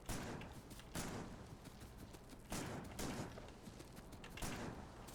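Shotgun blasts from the video game Factorio go off in a loose rhythm, roughly four sharp bursts each trailing into rattling noise, with no talk.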